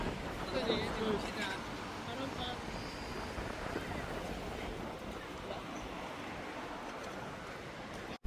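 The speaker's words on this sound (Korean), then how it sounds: "바람 진짜 많이 분다" Strong wind gusting steadily outdoors in Macau, a loud broadband rush across the whole span, with some faint talk and clatter early on and an abrupt cut at the end.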